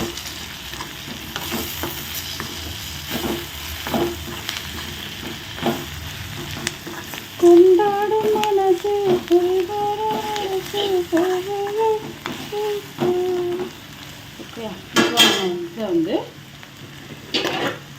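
Brinjal fry with chili powder stirred in a pan, a steady sizzle broken by scraping spatula strokes, with a brief high voice partway through.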